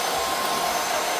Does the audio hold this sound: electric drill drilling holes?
no